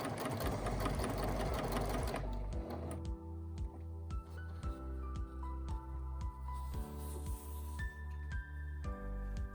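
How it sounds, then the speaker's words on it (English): Sewing machine stitching a straight seam in fabric for a pencil wrap case, a fast steady whirring run that gives way to slower, evenly spaced stitch pulses as it eases toward the end, close and alone. "I slow down when I reach the end, and I remember to backstitch at the beginning and the end of my stitch"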